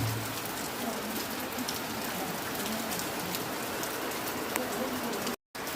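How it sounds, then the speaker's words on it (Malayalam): Heavy rain after two days of constant downpour pours down steadily and close, forming a dense, unbroken hiss with a brief dropout just before the end. "2 ദിവസമായി ഇവിടെ ഫുള്ള് മഴയാണ്."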